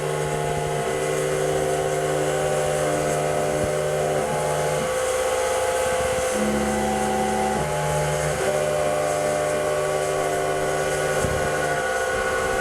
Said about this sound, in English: So now we'll start the motor up, and wait.